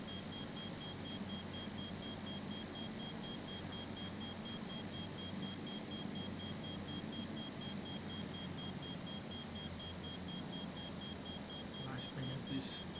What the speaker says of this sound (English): It's beeping like mad.